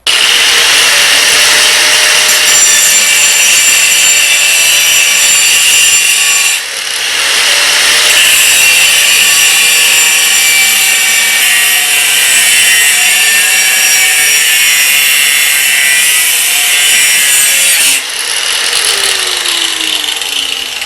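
A hand or power saw cuts steadily through a metal rod up close, loud and continuous. Two short breaks fall in the cutting, with no talking.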